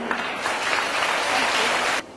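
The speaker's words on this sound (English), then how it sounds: "one more round of applause" An audience claps loudly at a learning centre event in Kolkata, dense continuous applause that holds steady for about two seconds and then cuts off abruptly.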